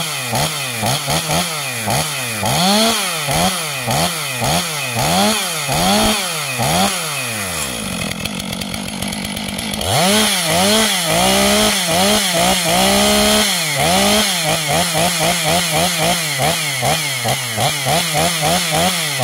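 A Stihl MS500i chainsaw revving loudly and close by: repeated rising and falling throttle surges, a brief lower steady stretch in the middle, then more hard revving without pause.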